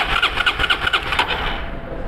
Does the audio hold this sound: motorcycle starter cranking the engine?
yes